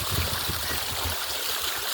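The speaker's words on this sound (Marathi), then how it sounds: "इथं केलं पाणी चालू." Tap water runs steadily for washing clothes in a village, a continuous close splashing rush with no voices.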